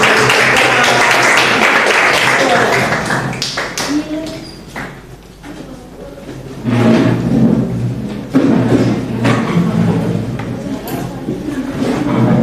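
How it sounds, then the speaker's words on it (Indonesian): Audience applause with clapping fills much of the room at a school teaching-practice session, loud at first, fading mid-clip, then swelling again, with voices mixed in. "Sekali lagi tepuk tangan dong buat respon."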